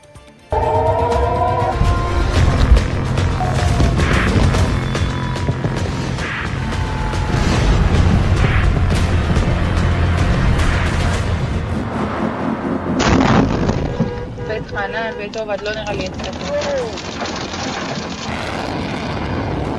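Iranian military hardware sounds loud and continuous, with heavy booms and engine roar from what seem to be aircraft or weapons firing, the texture shifting partway through, with no speech.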